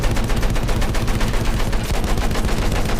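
Rapid gunfire in a Battlefield 1 battle, dense machine-gun bursts and rifle shots crackling continuously and loudly for about three seconds with no pause.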